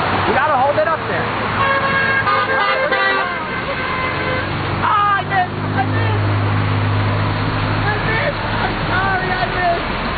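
Car horns honk at a roadside intersection near a water balloon stunt, sustained tones under traffic noise while people talk nearby.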